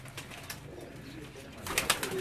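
Pigeons coo faintly in the background, soft throaty calls that rise toward the end, with no one talking.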